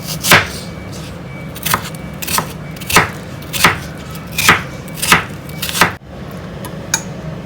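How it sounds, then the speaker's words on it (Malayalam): A knife cuts a peeled, seeded golden cucumber into small cubes on a board, giving about nine crisp, close chops at a loose, uneven rhythm with short pauses between. "ഇതുപോലെ ചെറിയ ക്യൂബുകളായിട്ട് കട്ട് ചെയ്തെടുക്കാം."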